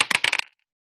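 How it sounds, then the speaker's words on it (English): A few quick clattering hits of dice tumbling and settling on a hard surface, five or so rapid knocks in half a second, close and fairly loud, then silence. "I'm going to roll the dice again"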